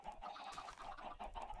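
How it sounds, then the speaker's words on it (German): Minecraft chickens clucking softly in a short, faint burst of repeated game-style poultry calls, with no voices. "Und nebenbei hörst du schon immer plopp, plopp."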